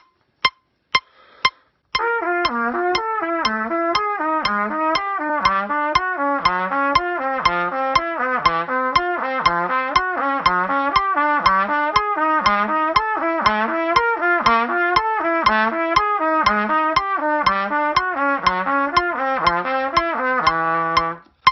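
A trumpet playing a slow stepwise valve-position exercise from Earl D. Irons over a steady metronome click, each held note moving up and back down.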